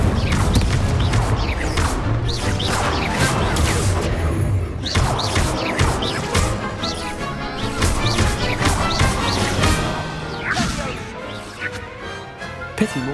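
A fire spell is cast during a wizard duel in Hogwarts Legacy, with loud continuous crashing and whooshing spell effects and impacts that carry through the clip alongside game music and voices.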